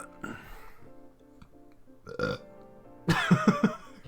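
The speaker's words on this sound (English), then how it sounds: "I forgot my point because I had a belch stuck in my throat" A loud belch close to the microphone near the end, a burst of rough gurgling pulses after a stretch of quieter room sound and brief vocal noises.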